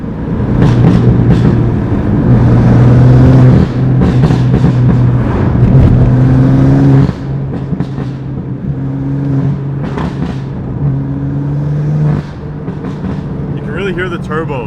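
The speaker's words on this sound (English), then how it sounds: "Hear the turbos." A BMW M3 rebuilt after fire damage and tuned to stage 2 plus, loud close engine drone with downshifts and rising acceleration pulls, its pitch stepping up and dropping between gears, with a voice talking over it.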